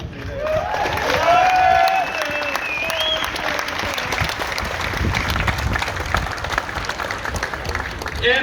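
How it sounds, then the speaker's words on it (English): Crowd applause at a Dublin housing action protest, sustained clapping over most of the stretch with a few shouts and whoops near the start and voices mixed into the crowd. "I think Deirdre and Patrick deserve a special round of applause for that."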